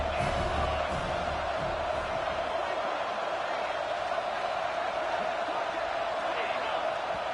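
Stadium crowd at an American football game keeps up a loud, sustained roar and cheer, a dense wall of noise that holds steady throughout without letting up.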